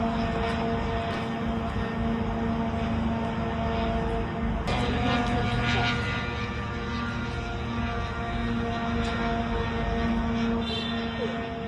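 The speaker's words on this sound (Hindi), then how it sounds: "ओडेसा के आसमान में कई रूसी ड्रोन्स नजर आए" A Russian kamikaze drone flies over Odesa, its engine a loud, sustained droning buzz that holds steady throughout, briefly swelling partway through, with no speech.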